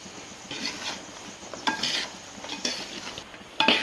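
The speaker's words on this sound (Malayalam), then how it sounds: "നമുക്കിനി നന്നായിട്ട് ഇളക്കി കൊടുക്കണം ഡ്രൈ ആവുന്ന വരെ നമ്മൾ ഇളക്കി കൊടുക്കണം" Jaggery sharkara varatti stirred in a pan with ginger, cumin, cardamom and sugar, giving repeated scraping and soft clinking strokes of a spoon against the metal, close and moderately loud, with no talking.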